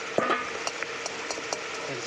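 Potatoes frying in oil in a pan while being stirred, soft sizzling under scraping spatula strokes and a few light clinks, short and close.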